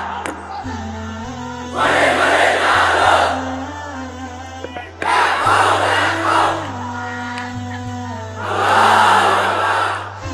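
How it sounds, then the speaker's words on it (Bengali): A large crowd at a Bangla waz gathering answers in three loud, drawn-out chanted takbir cries of Allahu Akbar, each swelling and fading, over a low hum of amplified sound. "এই হলো তাকবীর।"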